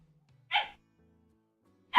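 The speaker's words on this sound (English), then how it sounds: "Stupid dogs." Dogs barking during a House Flipper 2 game session, with two short, sharp barks about a second and a half apart, fairly close, and near silence between them.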